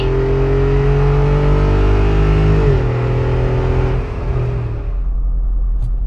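A 2024 Jeep Wrangler Rubicon 392 with a HEMI V8 accelerates hard, its engine roaring loud and close with rising pitch, a brief shift dip, then easing off to a lower rumble.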